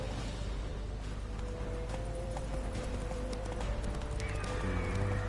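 A horse in The Witcher 3 gallops with steady, close clip-clop hoofbeats and gives a whinny, with busy game effects and music around it.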